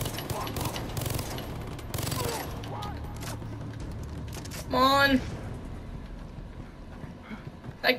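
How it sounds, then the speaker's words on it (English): Minigun fire in the Far Cry 3 Remastered video game comes as dense bursts of rapid shots amid game effects and a sharp ringing clang midway, with a player talking over the action. "time to use the minigun"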